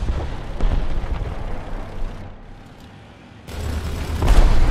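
A tank's ammunition cooks off in War Thunder, heavy rumbling blasts and booming roar that dip briefly to a quieter lull before surging loud again, close and sustained.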